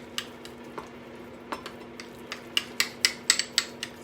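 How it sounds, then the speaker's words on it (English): A spoon clinks against a bowl while stirring Swerve powdered sugar into a peanut butter fluff mixture, light scattered taps that start sparse and then come quicker and sharper toward the end, over a faint steady hum. "Stir this up"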